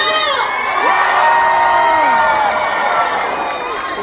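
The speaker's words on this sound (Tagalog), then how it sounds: "1, 2, 3, palakpakan na may kasamang hiyawan ko!" A concert-style crowd at a community fiesta in South Korea, loud sustained cheering, whooping and shouting with clapping mixed in, a dense roar that eases slightly near the end.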